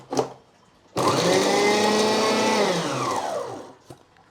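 A mixer grinder runs in one continuous burst of about three seconds, chopping half a green chilli. Its loud, close motor whine starts abruptly and falls slightly in pitch before cutting off, with brief handling knocks before and after.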